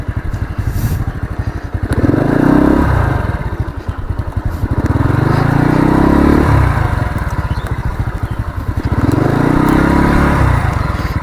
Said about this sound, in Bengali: আচ্ছা, বাইকটা ঘোরাতে হবে।